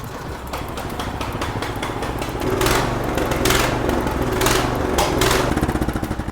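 A Craftsman snowblower engine runs rough and starved for fuel, a loud, close, uneven chugging with surging bursts and lumpy, stumbling pulses.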